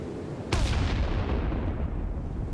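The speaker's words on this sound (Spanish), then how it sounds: "Me gustó cómo sonó cuando rebotó la granada" A grenade goes off in a Minecraft shooting mod as a single sudden heavy blast, followed by a long rumbling decay that fades slowly.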